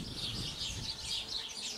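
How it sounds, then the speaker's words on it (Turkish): Birds chirp repeatedly in quick, high twittering calls by a stream, over a soft, steady wash of background noise, fairly close and moderately loud. "Tepemizde kuşlar cırılıyordu."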